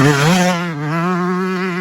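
A two-stroke Honda CR125 or 85 dirt bike revs hard nearby, its buzzing engine note rising then dropping and holding steady, loud and alone.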